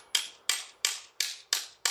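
A hammer peens the edge of a scythe blade with six sharp metallic strikes in an even rhythm, each ringing briefly before the next, close and clear with no talk.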